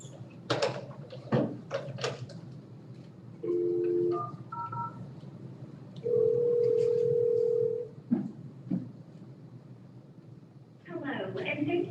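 Telephone keypad tones from someone dialing a number during a city commission workshop, given as a few short beeps and longer steady tones separated by pauses, with voices and room noise around them.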